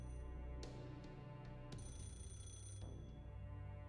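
A telephone ringing indoors, a faint, steady electronic ringtone with tonal bursts, heard alone without talk.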